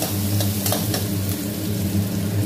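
Onions frying and being stirred in a pan for a drumstick kuzhambu, a steady broadband sizzle with occasional brief scraping stirs, close and continuous, with no voices.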